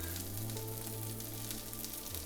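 Chicken pieces coated in batter fry in a pan with a steady, close sizzle and crackle, plus a low constant hum underneath and no voices.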